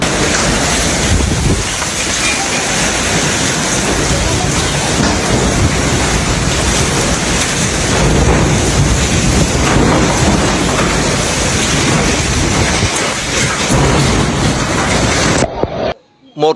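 A hailstorm in Vietnam, whipped by wind, produces a loud, constant roar of wind and pelting noise that continues unbroken before stopping abruptly at the end.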